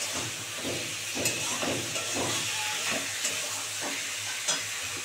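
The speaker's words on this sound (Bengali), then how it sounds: "এবারে মিক্সি ধোয়া জলটা দিয়ে দিচ্ছি।" Blender rinse water goes into a sizzling rohu fish curry masala, a loud steady hiss and bubbling with rhythmic stirring scrapes, with no voices.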